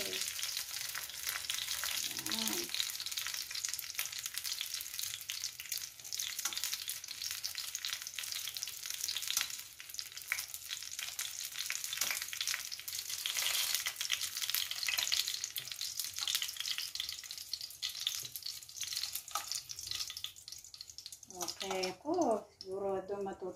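Malunggay spring rolls fry in hot oil with a steady, dense crackling sizzle throughout, close and moderately loud, with brief voice fragments near the start and end.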